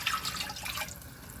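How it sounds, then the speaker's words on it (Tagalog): Two cups of water pour for a siopao asado sauce, a short, close splashing run of liquid that tapers off within about a second and a half. "maglalagay po tayo ng 2 cups of water"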